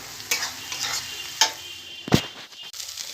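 Garlic frying in a pan for a taro leaf (kochu shak) dish, with a continuous sizzle broken by several sharp scraping knocks of a spatula against the pan, close by and without talk.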